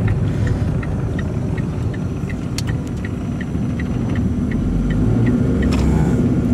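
A car pulling in second gear during a test drive, a steady engine drone and road rumble heard from inside the cabin, with a faint rhythmic ticking above it.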